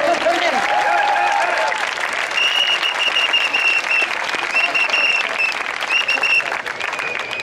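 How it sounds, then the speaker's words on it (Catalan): A protest crowd applauds at a mock people's trial of banks, loud continuous clapping with a few voices and whistles rising above it. "Aplaudiment."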